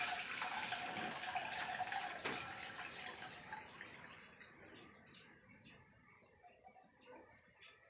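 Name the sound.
water drained from rinsed rice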